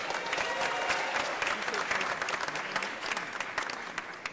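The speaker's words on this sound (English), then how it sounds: "Give yourself a round of applause." Graduates and guests at a college commencement ceremony in Atlanta break into hearty applause, a close, continuous patter of many hands at steady volume throughout.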